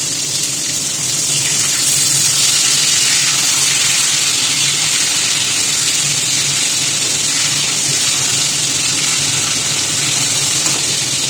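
Bhola fish frying in a pan for a mustard-poppy seed curry: a loud, dense, continuous sizzle fills the whole stretch close up, with no pauses and no voices.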